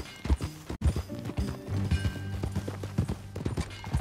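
Horse hooves clip-clop across ground in Red Dead Redemption II, a steady trotting rhythm heard close amid game ambience and faint background tones, with no talk.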